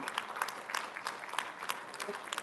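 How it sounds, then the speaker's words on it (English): An audience at a community event claps for the organizing team: scattered hand claps mixed with brief crowd murmur, fairly faint and steady throughout. "a round of applause"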